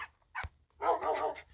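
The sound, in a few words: dogs barking in Minecraft Bedrock video game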